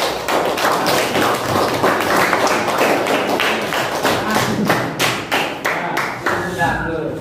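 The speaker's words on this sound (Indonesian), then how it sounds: "kita aplaus untuk kita semua" Applause for presenting student groups in a classroom lesson, dense clapping from many hands running steadily throughout, with a voice speaking over it.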